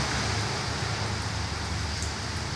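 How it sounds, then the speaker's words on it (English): Rain falls steadily, a constant broadband hiss with a low rumbling undertone and no pauses or voices. "I think you can see the rain."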